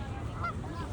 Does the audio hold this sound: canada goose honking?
yes